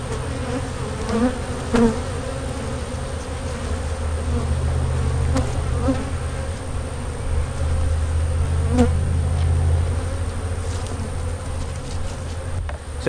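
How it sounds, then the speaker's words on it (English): A dense swarm of honey bees hums loudly and steadily up close as frames are shaken over a honey-bound hive, with a low droning buzz and occasional faint knocks and rustles. "I begin to shake bees a lot"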